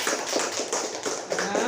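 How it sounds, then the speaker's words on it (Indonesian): A classroom of primary-school pupils claps for a group's answer, a short burst of brisk, rapid hand claps at steady moderate loudness. "beri tepuk tangan untuk jawaban dari kelompok 1"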